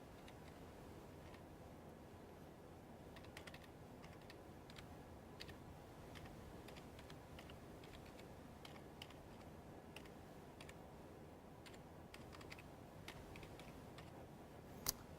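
Quiet, steady typing on a computer keyboard, with irregular clicks and small bursts of keystrokes and one sharper tap near the end, heard alone in a still room.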